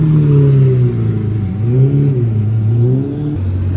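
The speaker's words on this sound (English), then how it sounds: "we've got a nice Huracan Performante Spider" Lamborghini Huracan Performante Spider engine revving up and down in short swells, loud and close, with a deep throaty tone and no talk.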